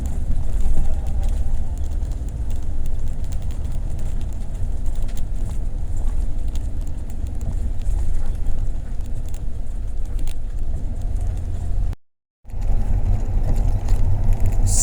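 An old Mercedes-Benz OH 1526 bus drives along with a steady low engine drone and road rumble heard from inside the cabin, continuous throughout with a brief dropout near the end.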